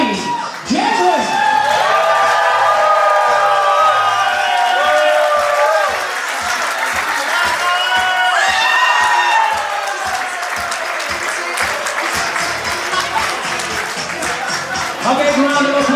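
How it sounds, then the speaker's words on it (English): Wedding guests clap, cheer and whoop loudly as a bridesmaid and her escort are announced, dense applause with shouts and excited voices in the crowd, slightly easing toward the end. "A big round of applause for Sarah Marquis, escorted by Charlie Jedwin."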